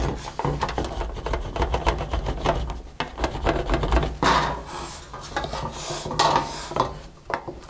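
Metal tool rubbing and rasping over a solid copper sheet during repoussé folk-art work, a steady close scraping texture with brief pauses, continuing without talk.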